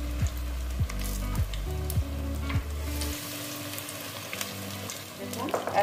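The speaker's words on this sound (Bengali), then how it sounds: "দেখুন এক পাশটা আমার ভাজা হয়ে গেছে, আমি আর এক পাশটা ভেজে নিচ্ছি।" Shapla (water lily) fritters fry in oil in a pan over a low flame, giving a continuous, moderately loud sizzle and crackle, with a low hum in the first half and light stirring noises.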